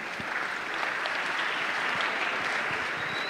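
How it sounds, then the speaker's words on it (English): Students at a school campus gathering in Ghana clap together, a dense, steady wash of applause filling the room at close range without pause. "oh, clap for him"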